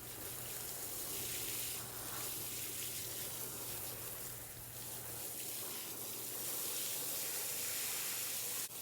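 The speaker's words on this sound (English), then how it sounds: "I like to water down the soil in the bag" Water is poured onto soil in a grow bag, a steady soft hissing spray that runs continuously for several seconds with slight swells, close and fairly quiet, without talk.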